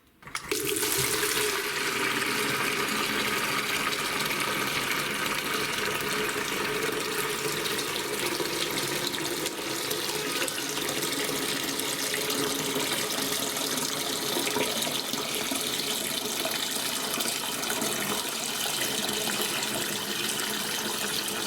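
Water runs steadily from a tap through new 25mm MDPE pipe into a bucket, a loud, continuous hiss and splash that holds constant from start to finish with no talking.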